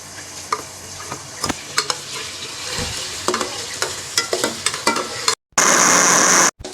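Onions fry to light brown in a pan while a spoon stirs them for dhaba-style aloo gobi. Continuous close sizzling carries repeated scraping stir strokes, with no one speaking.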